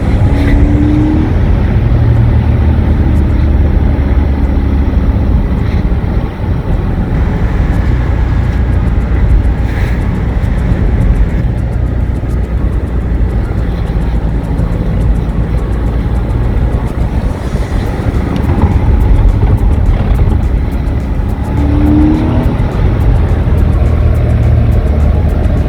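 A 2001 Porsche 986 Boxster Gemballa Avalanche custom is held in second gear and revs high. A loud, continuous engine drone blends with road and wind noise, swelling and easing slightly throughout.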